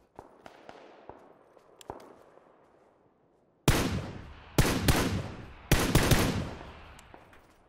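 Gunfire in the console battle royale game PUBG: scattered distant single shots early on, then after a brief lull several loud, close bursts of automatic fire with reverberant tails.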